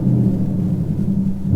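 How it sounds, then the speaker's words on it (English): Deep, continuous exhaust rumble from a 2023 Ford Mustang GT Premium with a six-speed manual in track mode, a loud low burble with no talk. "There is an audible sound difference, by the way, in the exhaust."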